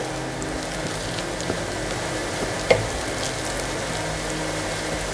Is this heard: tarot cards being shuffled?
no